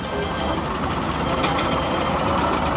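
Foden steam wagon running at a steam event, a steady rapid mechanical chuffing and clatter with a continuous busy rattle throughout.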